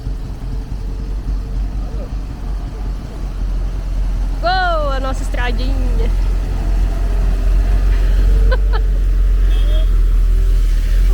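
A water tanker truck passes along a dirt road with a low, heavy engine rumble building steadily and growing louder toward the end, while people talk nearby.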